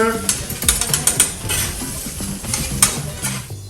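Fish fried rice fries on a hot griddle at a Japanese-style cookery show, loud sizzling broken by rapid metallic spatula clanks and scraping in an uneven rhythm, close up, with no talk.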